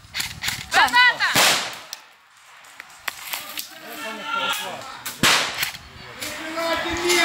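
Sharp explosive cracks from a grenade blast during military combat training, one near the start and another around five seconds, with shouting voices and commotion between them.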